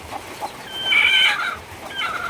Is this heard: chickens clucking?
yes